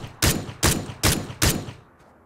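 Gunfire in PUBG, four loud, close single shots in an even rhythm about every 0.4 seconds, each with a short decaying tail, then quiet.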